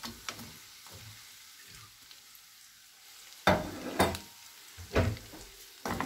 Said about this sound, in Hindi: अब इसमें रोस्टेड पोटैटो डाल देंगे।